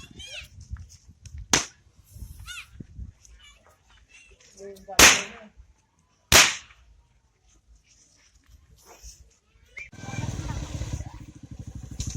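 Firecrackers going off in a Javanese village, several sharp loud bangs spaced a few seconds apart amid children's voices and background chatter, followed by a stretch of rumbling noise.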